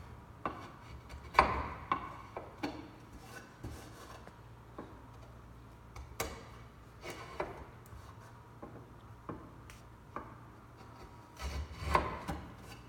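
A sharp chisel pares small slivers from wood while cutting a cross lap joint, giving a series of faint, scattered scraping and tapping strokes at an irregular pace, close by, with no talk.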